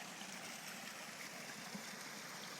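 A small stream flows beside the spring for a trail shelter on the Appalachian Trail, giving a steady, close, unbroken rush of water with no talking.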